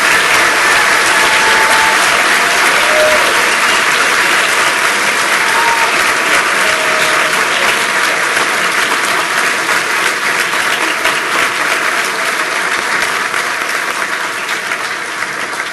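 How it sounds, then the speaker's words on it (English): A large audience at a Class of 2023 white coat ceremony claps loudly and continuously, the dense applause sustained and gradually easing toward the end. "Let's give them all a huge round of applause"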